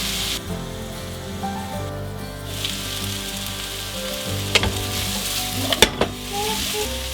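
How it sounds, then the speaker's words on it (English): Butternut squash frying in hot oil over medium-high heat, a steady broadband sizzle with occasional stirring scrapes and a few sharper clinks of the utensil against the pan near the end, no talking. "Once the oil is hot, add your butternut squash. Cook for a couple of minutes on a medium-high heat, stirring often."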